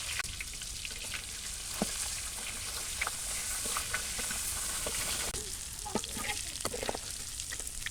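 A mash of boiled ingredients fries in oil, giving a continuous crackling sizzle with scattered sharp pops and light stirring scrapes. It is moderately quiet and plays with no speech.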